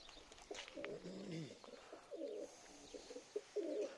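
Homing pigeons coo nearby in soft, repeated throaty phrases, with a few brief bird chirps and a faint airy background between calls.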